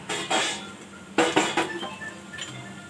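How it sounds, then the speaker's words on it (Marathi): Metal lid lifted off a pan of cooked village-style vegetables, a few close clinks and clatters of metal on metal, spaced out over a few seconds. "तर आता आपण झाकण काढून बघू भाजीचं"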